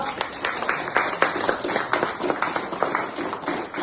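An audience claps together in quick, steady beats that run evenly through the whole moment, moderately loud and fairly close.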